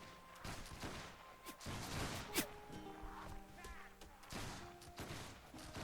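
Grenadiers fire a musket volley in Mount & Blade Warband: a scatter of sharp cracks and thumps lands at irregular intervals, one louder report standing out midway, with voices and other battle noise mixed in.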